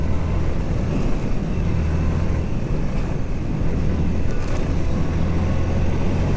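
A Suzuki GR 150 motorcycle engine hums steadily in third gear on an off-road trail, a continuous low drone mixed with heavy wind rush across the microphone.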